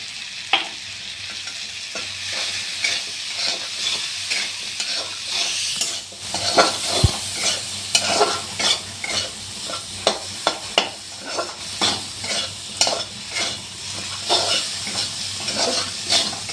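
Pointed gourd pieces sizzle in hot oil with turmeric, cumin powder and green chilli while a spatula stirs them, giving steady frying hiss and repeated scraping strokes throughout, close and fairly loud with no talk.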